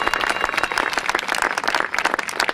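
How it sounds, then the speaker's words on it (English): Crowd applause and cheering at the Wenlock Olympian Games, dense rapid clapping from many hands, steady and fairly close throughout. "Let's have a big cheer."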